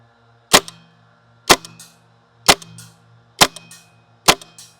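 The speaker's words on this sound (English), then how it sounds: "I will load a fully loaded mag with new gas and 3 2-gram BBs, and we'll see if we can't make contact with the target downrange" Five sharp, loud reports from a WE M712 Mauser gas airsoft pistol firing BBs downrange, spaced roughly a second apart, each a crisp crack with a brief ringing tail over a low steady hum.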